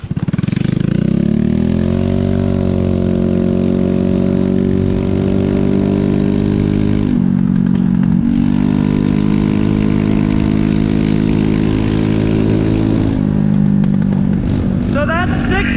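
A loud, raspy straight-piped 150cc Chinese scooter engine runs continuously on mountain roads, droning steadily with rising and falling revs and brief dips as it changes pace.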